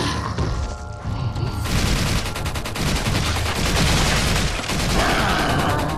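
Sustained gunfire rattles in Resident Evil 4 as a monster is shot, a dense, loud stream of repeated shots with booming impacts running throughout.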